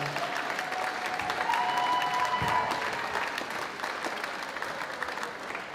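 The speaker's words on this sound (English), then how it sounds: "let's give the staff and teachers, cooks, custodians, a round of applause." Sustained applause from a sizable crowd for school staff, teachers, cooks and custodians at a drama team's state send-off, a dense steady patter of clapping that slowly thins out toward the end.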